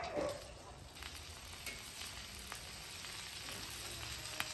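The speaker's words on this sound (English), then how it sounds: "The first thing I think we need to start doing is probably getting our bacon and our onions down." Homemade bacon frying on a flat griddle, a soft, even sizzle with faint crackles and pops running steadily throughout.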